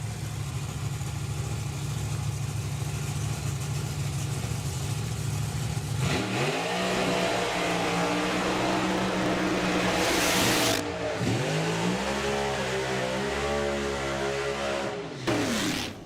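Pro Mod Camaro drag cars rumbling in the staging lanes, a deep loud idle that breaks into repeated revving sweeps, with engines rising and falling in pitch several times.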